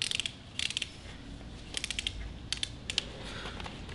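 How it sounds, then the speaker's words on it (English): Ratchet on Optrel IsoFit welding helmet headgear being tightened, giving short bursts of close, crisp plastic clicks in irregular clusters, with no talking. "I'm gonna tighten it up here."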